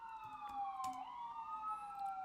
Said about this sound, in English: I'm going to talk over the sirens, guys.